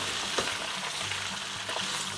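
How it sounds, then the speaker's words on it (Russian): Potatoes frying in a pan for a rustic home-style dish, a steady close sizzle with a few brief stirring scrapes, no voices. "Перемешаем, потому что внизу там уже картошка начала жариться,"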